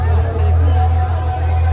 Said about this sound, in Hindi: और काफ़ी सारी भीड़ है यहाँ पर।